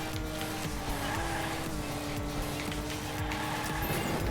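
A race car from a Hot Wheels video game drives at speed, its engine whine steady and loud with a faint tire squeal, an unbroken game-audio drone throughout.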